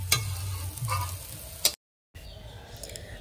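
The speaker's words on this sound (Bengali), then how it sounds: "আর অল্প একটু ভাজা ভাজা করবো, তারপর নামিয়ে নেবো।" Vegetable chow mein with meat masala frying in a pan: a steady sizzle with sharp scrapes as it is stirred, a brief cut to silence, then a softer continuing sizzle.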